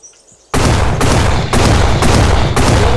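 Automatic turret gunfire in the survival shooter Oxide Survival Island bursts in after a quiet half second, loud sustained rapid fire with short rhythmic breaks about every half second.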